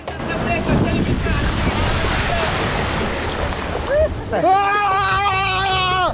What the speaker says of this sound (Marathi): पाण्याच्या लाटा पाहत आहे का किती जोऱ्या जोऱ्यात येत आहे